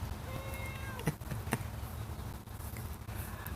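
A cat meows a few times in quick succession near the microphone, its calls then giving way to steady outdoor background noise with a couple of sharp knocks.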